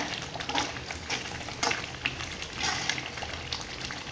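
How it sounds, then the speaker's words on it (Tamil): A thick tomato curry bubbles and sizzles in a pan, with soft irregular pops and spatters close by. "நல்லா கொதிச்சு நல்லா திரண்டு வந்திருக்கு"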